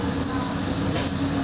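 Fish frying on a griddle in a busy restaurant kitchen gives a loud, steady hiss and sizzle, with no break and no speech over it.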